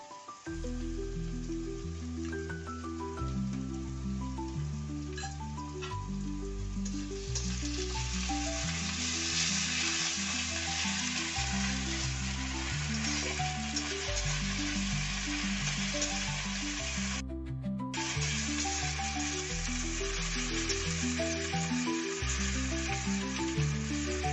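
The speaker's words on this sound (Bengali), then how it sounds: "ভালো করে ভাজার পর পেস্ট করে রাখা আদা ও রসুন বাটা দিয়ে ভালো করে নাড়তে হবে" Ginger-garlic paste sizzles steadily in a hot pan as it is fried and stirred, growing louder after a few seconds, with music playing throughout.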